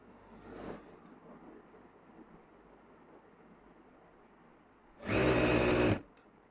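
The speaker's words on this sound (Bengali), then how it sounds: "পা সেলাই দিবেন।" An electric sewing machine stitches a trouser leg in one short, steady burst of about a second, loud against a quiet room hiss.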